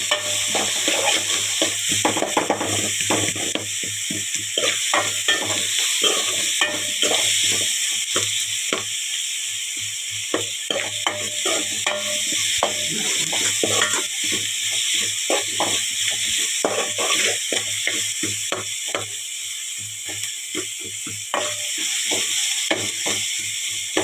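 Curry leaves sizzle in a frying pan while being stirred for a home-cooked dish of chukka kura greens and raw prawns, a steady crackling hiss broken by many quick scraping strokes of the spatula throughout.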